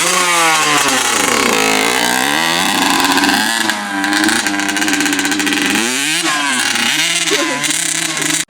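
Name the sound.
Honda CR85 dirt bike riding around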